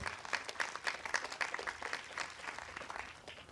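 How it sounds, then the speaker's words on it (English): Audience applause at a school band concert, steady dense clapping that rises and then slowly fades, heard from some distance at moderate level. "So let's give a round of applause to John Mullins and Harding Telecom."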